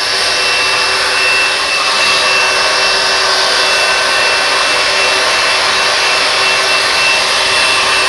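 A hair dryer blows steadily on freshly dyed hair, a loud, continuous close-up whoosh and whine that holds unchanged throughout with no speech.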